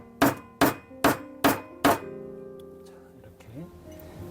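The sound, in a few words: urethane hammer tapping parts while disassembling GBLS 1911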